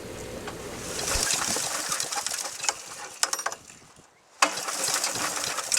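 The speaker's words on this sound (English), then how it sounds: "when you're turning an engine over by hand" A chipper/shredder engine with its spark plug pulled is turned over by hand, giving a continuous rattling, clicking mechanical churn that briefly falls quiet before resuming up close.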